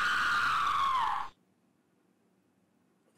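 A short, falling scream from the horror fan game Mari0.EXE, loud and strained for just over a second before cutting off abruptly into near silence.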